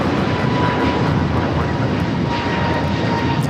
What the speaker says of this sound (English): we're now looking at Korean Air Flight 18 Super taking off to Seoul on the A380